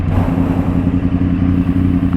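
A 2014 Yamaha R1 facelift sportbike idles while warming up, its engine giving a loud, close, steady burble with a clattery mechanical edge and no speech.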